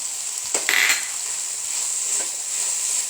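Beef filling with coriander leaves sizzles in a pan for a khatti roll, a steady hiss with a brief scraping stir of a spoon near the start, close and fairly loud, no talking.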